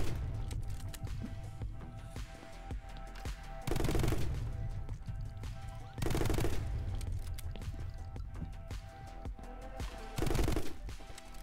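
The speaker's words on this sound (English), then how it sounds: "I do need to shoot him." Rapid automatic gunfire from the action video game My Friend Pedro rattles on almost nonstop, loud and dense, with heavier volleys swelling in three short bursts over the continuous barrage.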